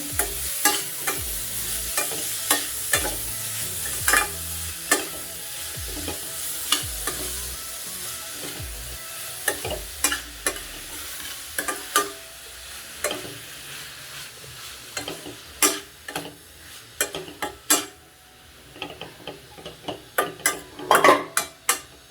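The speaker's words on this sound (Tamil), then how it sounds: "இப்போது 200 கிராம் கேரட்டை நம்ம நல்லா துருவி வதக்கிட்டுருக்கோம்" Grated carrots, about 200 grams, sautéing in a pan for carrot halwa, with a soft steady sizzle broken by repeated scraping stirs and light clinks of the spoon against the pan, close by.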